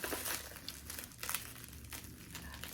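A small knife slicing through heavy packing tape on a subscription beauty box, with close crinkling and tearing of tape and plastic in short bursts, steady rustle throughout and no talking.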